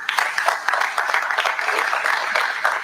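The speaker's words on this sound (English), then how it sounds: "Everyone, can we please give a round of applause to these incredible Carter Cubs" An audience at a mayor's weekly press briefing bursts into steady applause, with dense clapping that continues evenly across the whole stretch at fairly close range.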